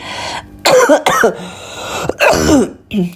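Several loud, close coughs come in separate bursts with short pauses between them, with a throat-clearing quality and no words spoken.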